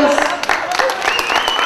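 Wedding guests at a reception give a brief, close burst of clapping, over quickly, with voices and a tonal sound mixed in.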